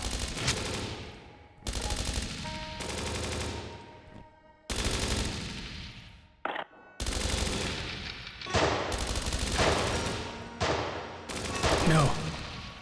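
Video game ambush firefight: loud bursts of automatic gunfire and rapid shots in several clusters, broken by short pauses, with a sharp blast near the middle and dense shooting continuing to the end.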